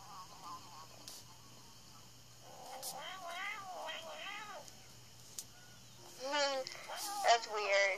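A Siamese cat gives several warbling, wavering meows and drawn-out yowls, quiet at first and louder near the end, while people talk faintly in the background.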